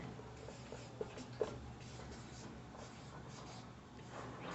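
Marker or chalk writing on a classroom board during a maths lesson on sets and relations, a soft, steady scratchy stroking with a couple of light taps, fairly quiet and close.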